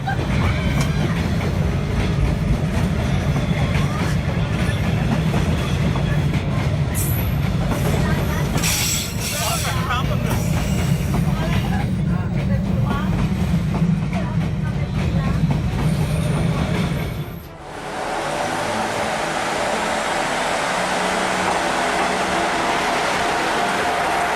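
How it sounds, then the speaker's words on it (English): A train rumbles past just inches from a Vietnamese cafe, loud and close with heavy low roar and wheel clatter for about seventeen seconds, then cutting off abruptly to quieter background ambience. "Enjoying a cup of coffee in Vietnam while a train passes just inches away is definitely an unforgettable experience."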